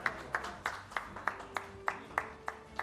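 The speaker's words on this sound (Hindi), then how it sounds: "जोरदार ताली बजाकर सम्मानित कीजिए" Audience at a Devas civic ceremony for COVID vaccination workers claps to honour a guest, with sharp clap bursts at roughly regular intervals over a low room murmur.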